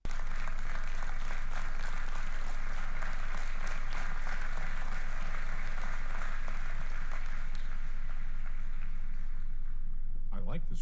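Crowd applause from a played recording in a radio broadcast, a steady broad wash of clapping that runs for about ten seconds, fairly faint, and ends with a few sharp clicks.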